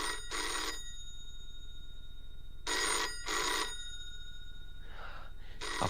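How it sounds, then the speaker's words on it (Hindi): A telephone rings inside a house in repeated paired bursts, with short pauses between ring pairs and fainter rings near the end. The ringing is moderately quiet and heard alone, with no talking. "अब पता नहीं किसका फोन है।"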